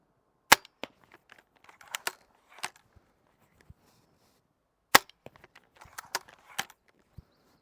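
Steambow M10 75-pound crossbow shots at a target, heard as sharp snapping releases with quick thuds: one at the start, a spaced cluster after it, and another burst later, fairly close and with no talking.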